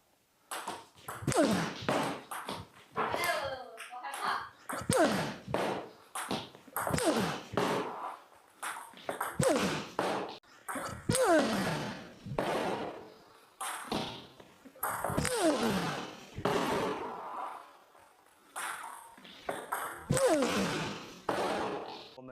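Table tennis forehand power loops hit against backspin, with a steady rhythm of sharp ball strikes and table bounces repeating every second or so, close and clear, mixed with footsteps and room echo.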